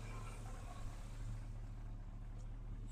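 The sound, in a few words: truck engine revving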